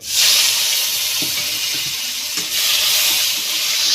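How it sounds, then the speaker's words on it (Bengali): Chopped tomato hits hot oil already holding whole cumin and a little sugar, a mung dal dish in progress, bursting into a loud, steady sizzle with a brief surge midway and no talk. "এইবার দিয়ে দেব টমেটো কুচি"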